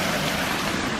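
Steady rushing roar of a forest waterfall at Natural Bridge, a dense continuous wash of falling water close by with no other sounds.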